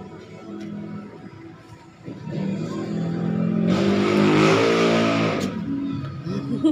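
A motorcycle passes along a street on a walk to the market, its engine note building over a couple of seconds, peaking loud and close with a rising rev, then fading as it moves away.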